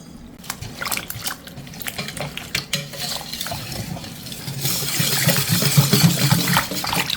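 Traditional glutinous-rice gochujang chili paste mixture made with malt water is stirred to break up lumps, giving continuous wet, sticky scraping and sloshing sounds that grow busier and louder toward the end, with no talking.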